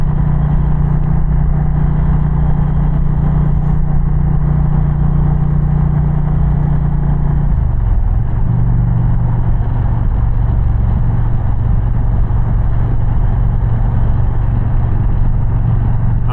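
An Indian Challenger motorcycle fitted with a Powerband Audio exhaust rumbles steadily while riding near Pine Island, New York, with a deep, loud, continuous engine drone whose pitch drops briefly partway through, heard alone without talk.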